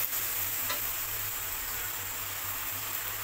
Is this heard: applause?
no